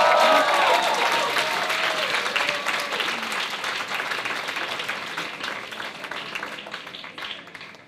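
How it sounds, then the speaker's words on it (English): Sustained applause from a large audience at an MA degree awarding graduation ceremony, loud and steady, with a brief voice at the start before dense clapping fills the rest and eases slightly toward the end. "Thank you very much, Howard, and an applause for all students from Economics of Development."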